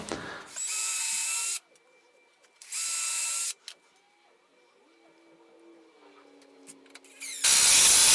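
A power drill drives screws into a wooden convertible picnic table in two short whirring bursts of about a second each. Quiet handling clatter fills the gaps between them, and a louder burst starts near the end.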